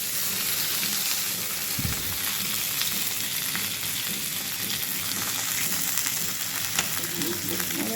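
Cumin, ginger paste and a bay leaf sizzle in hot oil for a dish of papaya curry, a dense, steady crackle close by with a sharp thud early on and light stirring throughout.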